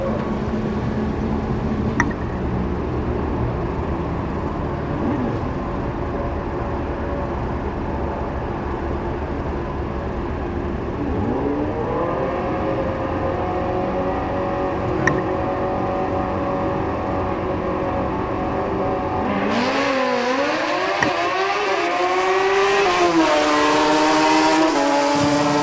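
Drag racing motorcycles, a Hayabusa and a 2013 Kawasaki ZX14, rumble at a racetrack in a distant engine drone that gives way to loud rising revs and whining acceleration as the bikes launch down the strip.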